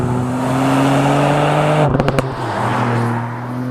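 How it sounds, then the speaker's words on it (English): A Ford Puma ST three-cylinder engine pulls with a steady, loud drone, then briefly stutters during a quick gearshift before the note resumes and climbs again. "I love the sound of a 3-cylinder."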